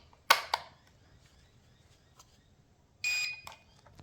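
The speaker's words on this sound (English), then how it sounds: "It beeped. That must mean it's working." Two short sharp clicks, then after a pause a brief bright electronic beep with a tonal buzz from a Tornado RC car after batteries go into its remote, fairly close in a quiet room.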